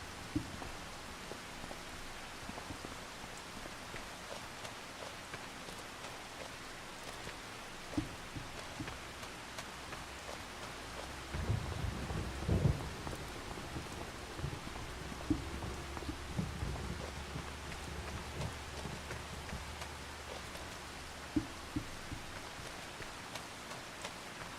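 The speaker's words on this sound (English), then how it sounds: "Every time it rains in this game now, and that thunder rolls just a little bit" Steady rain from the video game Farming Simulator 25 hisses continuously, with a low rumble of rolling thunder swelling briefly near the middle before fading back under the downpour.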